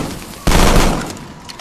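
Burst shotgun in Call of Duty Black Ops 2 Zombies, played in VR, letting off a single loud, sharp blast that decays over about a second.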